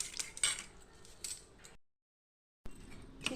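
A fork beats a thick batter of starchy rice water and flour in a bowl, giving quick clicking taps and wet scraping, then a short silent gap before the stirring starts again.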